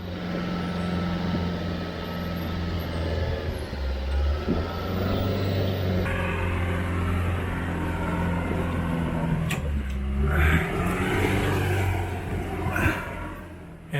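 A Toyota Hilux 4x4 engine drones and revs steadily while climbing a rough offroad track near Coffs Harbour, a loud continuous rumble with rising pulls around the middle and later in the passage, close to the microphone.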